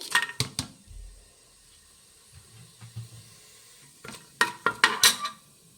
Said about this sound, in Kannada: ಎಣ್ಣೆ ಕಾಯ್ದಿದೆ. ಒಂದು ಪಲಾವ್ ಎಲೆ ತೊಗೊಂಡಿದ್ದೀನಿ.